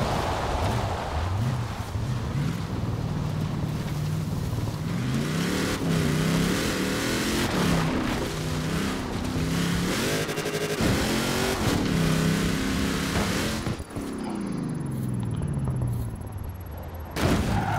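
A car engine driving in the video game Forza Horizon 4, loud and close, revving up and down through repeated gear shifts with a sustained roar and a brief dip near the end.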